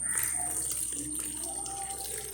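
Water poured while making chili bajji batter trickles in a faint, steady stream, a soft continuous splash with a light high hiss and no voices.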